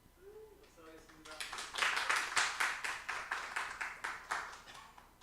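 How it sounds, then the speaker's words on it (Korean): Church audience applause at a Korean congregation's training-sharing service, starting after brief talk and building into steady rhythmic clapping from many hands, close and moderately loud. "박수하겠습니다"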